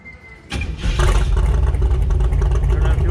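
A carbureted Jeep engine being tuned on a dyno cranks and catches after a short quiet start, then settles into a loud, close, rumbling idle that holds steady to the end.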